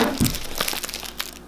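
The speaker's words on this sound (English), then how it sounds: "I believe this one's made from like recycled material, which is why it's like paper-y and like a little crinkly." A crinkly recycled-paper brush case is handled up close, giving brief papery crumples and rustles with a sharper crackle near the start.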